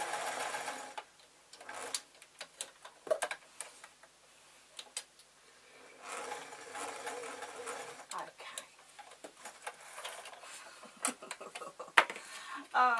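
A sewing machine running a simple stitch on a pillow case, rapid ticking bursts that start and stop in close, loud runs, with brief pauses between them.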